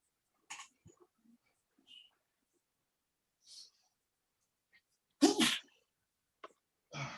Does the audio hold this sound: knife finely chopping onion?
no